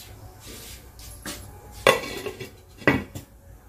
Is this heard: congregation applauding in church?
no